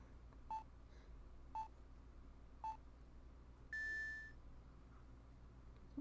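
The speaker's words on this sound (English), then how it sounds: "Some sort of alarm clock." In the Phoenix Wright: Ace Attorney – Trials and Tribulations video game, an alarm clock beeps three times in short evenly spaced electronic tones, followed by a longer sustained beep, all faint against quiet background hum.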